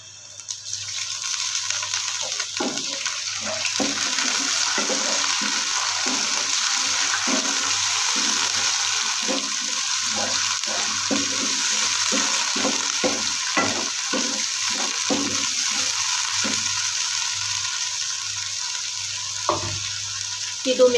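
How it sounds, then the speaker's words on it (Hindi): Water goes into a hot pan while cooking dal chana, producing a loud, steady sizzle and bubbling with repeated scraping stir strokes throughout. "अभी पानी लगाएंगे थोड़ा सा।"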